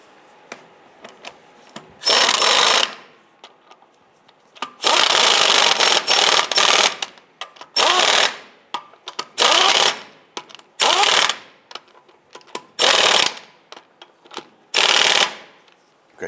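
An impact-style power tool snugs down the lug nuts on a 1995-2001 Ford Explorer wheel in a series of loud, close bursts, each one to two seconds long, separated by short pauses.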